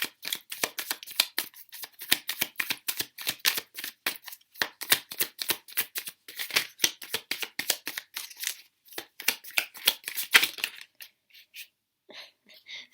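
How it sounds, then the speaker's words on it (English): Tarot cards shuffled by hand, a rapid run of crisp papery riffles and flicks in quick uneven bursts, close and clear, thinning out toward the end with a few separate card snaps. "Let's get one more card out."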